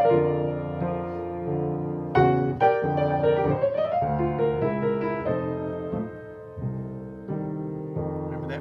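Solo piano plays "Just A Closer Walk with Thee" at a quicker pace, with clear sustained chords and melody notes in a steady, moderately loud flow and no talking.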